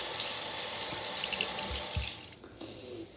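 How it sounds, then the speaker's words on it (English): Tap water running steadily into a bathroom sink for a face rinse, a broad close hiss that eases near the end, with no talk. "I think I'm just gonna do a little rinse with water"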